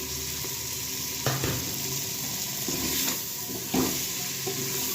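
Washed potatoes tumble into a hot, sizzling pan of oil in a home kitchen, a steady loud frying hiss broken by a few thumps and stirring scrapes, close up with no talking.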